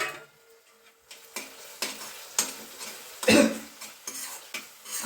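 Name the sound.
sautéing in oil with turmeric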